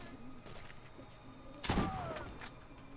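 A single loud shotgun blast fired in the Borderlands video game, a sharp burst midway through, with a fainter follow-up report and steady game background noise around it.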